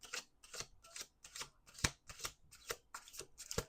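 Playing cards are riffled in a quick, steady rhythm, about eight crisp bursts of flapping card noise close up, with no talking.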